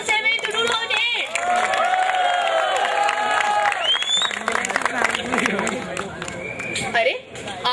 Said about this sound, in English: So guys, no, a big round of applause for best 2007 to 2008.